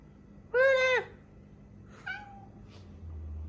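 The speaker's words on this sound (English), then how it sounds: "Look at that big old cat." A big house cat lets out one loud drawn-out meow close by, then a softer second meow a moment later and a faint third call, with low background noise and no talking.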